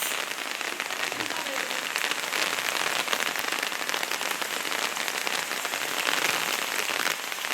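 Heavy monsoon rain falls on a farmhouse yard during an all-day downpour, a constant close hiss and patter of drops beating on surfaces that never lets up.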